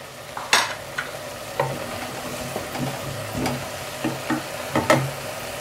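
Onion and calf's feet frying in a pot while being stirred, with scattered scrapes and knocks of the spoon over a low, steady sizzle; no talking.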